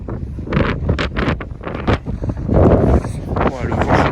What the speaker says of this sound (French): Ouais, le vent c'est incroyable.